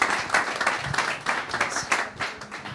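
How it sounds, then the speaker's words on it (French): A conference audience claps for Julie and Matfer Bourja, a lively burst of applause from a smallish crowd with distinct individual claps pulsing unevenly, fairly close and loud throughout. "je pense qu'on peut applaudir Julie et Matfer Bourja"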